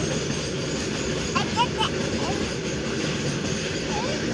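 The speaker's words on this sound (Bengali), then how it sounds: "ট্রেন এসেছে দেখো ট্রেন শেষ হয়ে গেল" A train passes close by with a heavy, continuous rumble and rolling noise that stays steady throughout, with a few faint high chirps briefly on top.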